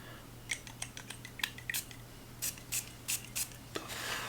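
Aramis Tobacco Reserve perfume atomizer spraying; a series of short, sharp hissing bursts, close and fairly soft, about a dozen in irregular quick succession with no talk.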